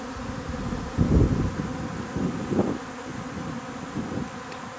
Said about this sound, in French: Il y a beaucoup moins d'abeilles qui volent tout autour.